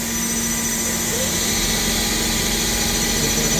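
Sub spindle of a Eurotech Elite Multiflex 545SL-Y CNC turning center running at steady speed, a continuous loud machine whine and hum with no breaks, close by and without talk.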